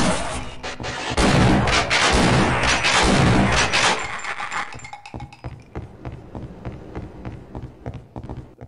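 Loud close gunfire in the video game Half-Life: Opposing Force, a dense booming blast of shots for several seconds, then fading into a run of quieter repeated thumps.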